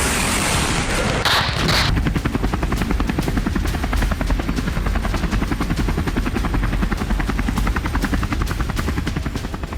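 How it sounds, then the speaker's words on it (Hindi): Patrol helicopter firing guns over the sea: a steady loud rotor roar runs throughout, with rapid bursts of automatic gunfire crackling over it, close and continuous. "हेलीकॉप्टर्स ने मागोरा का पीछा किया और गोलियों की बरसात कर दी गई।"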